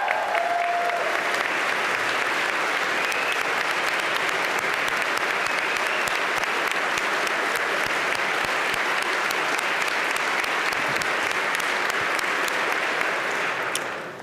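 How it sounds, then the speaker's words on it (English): Sustained applause from the audience in a legislative chamber at a Pennsylvania budget address, welcoming the lieutenant governor's wife; dense, steady clapping throughout, close and loud, fading slightly at the end. "some members of the Senate who rose to clap for Ms. Holmes Davis prior to the Lieutenant Governor standing up"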